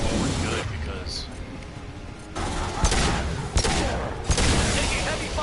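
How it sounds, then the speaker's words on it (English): Heavy gunfire in Mass Effect 2 combat, dense continuous volleys and booming bursts that surge and break off sharply, with a voice talking over the shooting. "Taking heavy fire."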